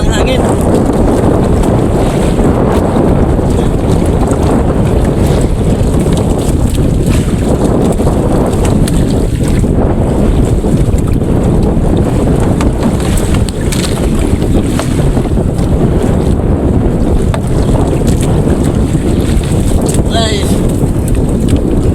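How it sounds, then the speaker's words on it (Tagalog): Strong wind roars steadily across the microphone on a small fishing boat at sea, a loud continuous gusting rush with water and hull noise beneath, and a voice faintly under it. "Medyo malakas-lakas yung hangin ngayon mga idol."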